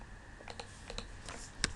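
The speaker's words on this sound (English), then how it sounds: "I'm just typing in some data so we can play around with it." Data being typed on a computer keyboard for an Excel spreadsheet, heard as a quiet, irregular run of light key clicks with a sharper tap near the end.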